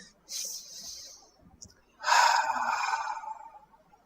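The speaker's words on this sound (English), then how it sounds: "Again have double breathing and stretch and relax part." Two audible breaths during a Kriyayoga meditation session, a short airy inhale-exhale followed by a longer, louder breath, close and clear against a quiet room.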